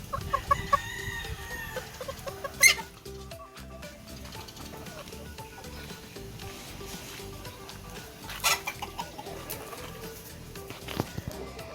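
Caged gamecocks cluck and call continuously nearby, and a few louder squawks or crow-like calls rise above the flock's steady chatter.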